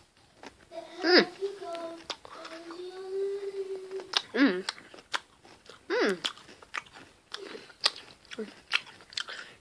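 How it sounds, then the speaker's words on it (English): Oreo cookies crunch and are chewed close to the microphone in irregular bites, with a voice speaking and humming between them. "I've got to eat some Oreos today."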